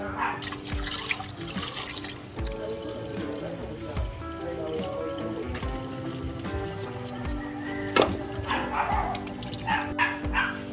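Water pours and splashes onto half a kilo of glutinous rice in a kitchen to wet the grains, a steady running wash that lasts throughout under a busy background with tonal sounds.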